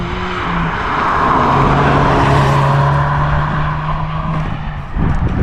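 A 2024 Ford Focus ST with a 2.3-litre EcoBoost engine and standard ST exhaust revs hard as it accelerates past, its exhaust roaring loudly with a rising then falling tone.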